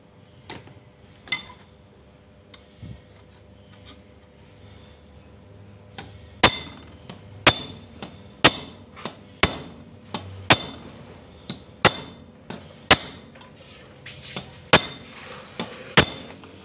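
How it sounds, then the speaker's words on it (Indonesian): Hammer striking a broken key to bend it, a series of about a dozen sharp metallic clinks at a steady, slightly uneven rhythm, close and fairly loud after a few lighter taps. "kita pakai palu aja"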